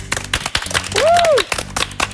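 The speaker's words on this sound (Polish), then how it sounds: "Wielkie brawa!" Steady applause fills a children's TV studio, with a brief whistling tone rising and falling midway before the clapping continues evenly.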